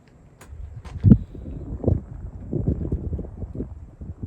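Outdoor wind gusts buffet the microphone at a shooting position as a low, uneven rumble that swells and fades, with a few faint knocks near the start and no one speaking.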